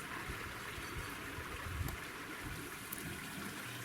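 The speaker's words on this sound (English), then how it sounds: "Then a peep of stream below Lock's Mill" Water trickles in a small stream below a mill, a steady soft wash and burble with low gurgles, continuous and fairly faint throughout.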